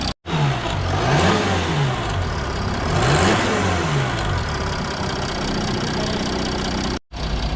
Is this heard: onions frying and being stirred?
no